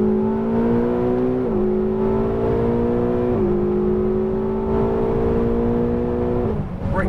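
A Ferrari 488 GTB engine revs hard on a track, climbing loudly through gears with quick shift dips between rising pulls, close and continuous.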